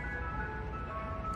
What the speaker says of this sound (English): Can I record everything I need to record in between the ice cream truck jingle?